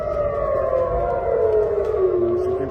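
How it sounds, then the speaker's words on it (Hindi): A loud, steady air raid siren wails continuously in Tel Aviv during a drone attack, its pitch slowly sliding downward as it drones on without any voices. "तेल अवीव के कई शहरों में हवाई हमलों के सायरन बजने लगे"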